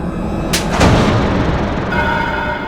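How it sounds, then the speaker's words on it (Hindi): A couple of sharp firecracker bangs in quick succession, loud and close, followed by a lingering rumble and crackle. "ये पटाखे बहुत अच्छे हैं, बहुत आवाज है इनकी।"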